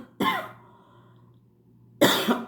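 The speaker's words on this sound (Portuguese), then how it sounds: "Eu vou parar por aqui porque a tosse tá demais." An adult woman coughs twice, close and loud, each cough a sharp rasping burst, the two spaced nearly two seconds apart with near silence between.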